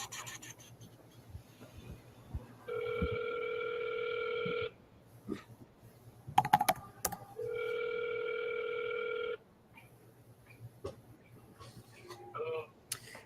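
A telephone rings twice in long electronic tones, separated by a pause, with dialing clicks and small desk noises around it and faint talk nearby.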